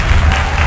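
A short, loud burst of people clapping together, dense applause filling the whole moment.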